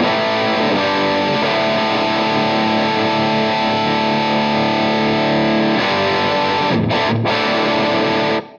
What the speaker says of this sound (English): Let's just set up a generic sort of sound with the amp, how I might set it.